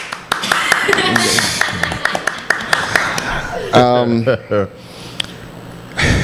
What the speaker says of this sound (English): press the applause button first